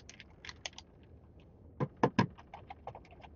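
Computer keyboard typing in bursts, a quick run of light key clicks followed by a pause and then a few louder, heavier keystrokes and scattered taps, close and dry.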